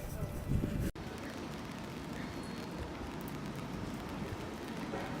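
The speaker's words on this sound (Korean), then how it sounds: "잔잔하게 비가 오고 있는데 분위기 너무 좋아요." Gentle rain falls steadily in a quiet shopping street of Asakusa, Tokyo, a soft continuous patter with a brief louder burst and a short break near the start.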